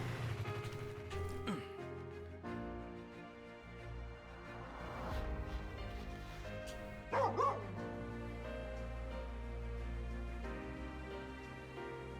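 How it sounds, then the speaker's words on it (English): A dog in the video game Final Fantasy XV barks and yips repeatedly in short bursts over a bed of game music, fairly close and clear. "Follow the barking."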